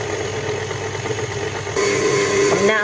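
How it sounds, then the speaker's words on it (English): A stand mixer with a whisk attachment beats butter, a loud, close motor drone with a rattling whir that jumps up in pitch and volume as the speed increases. "I'm going to turn on the mixer so it's going to be a little bit loud"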